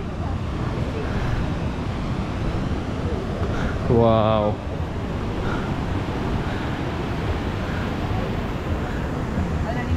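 Ocean surf on the shore at Mirissa, Sri Lanka, a constant broadband roar of waves and wind under a brief exclaimed word from a nearby voice.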